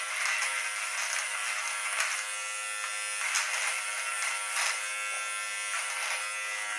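An electric hair clipper from a 4D 6-in-1 grooming kit buzzes steadily and close, with slight rises and dips in pitch as it cuts, and no voices.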